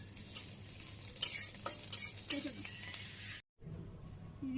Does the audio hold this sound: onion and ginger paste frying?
yes